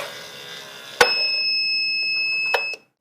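A medication dispenser's alarm test starts with a click, then sounds a steady high-pitched electronic beep that holds for nearly two seconds and cuts off after a second click.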